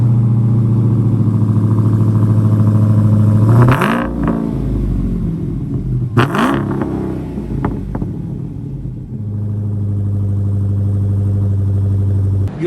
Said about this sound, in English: Exhaust sounds good at these low RPMs.